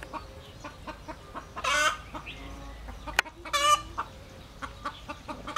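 A domestic hen brooding a clutch of eggs in a nest clucks softly and repeatedly at close range, with a couple of louder squawking bursts.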